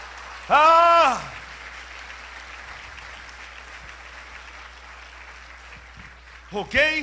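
A church congregation applauds during a sermon, a fairly soft, diffuse patter of clapping that fills the middle stretch, while a voice speaks loudly at the start and again near the end.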